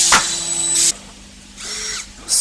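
Power drill driving screws into a corner connector piece of a small window frame during assembly, in two whirring bursts with a pause between, close and fairly loud.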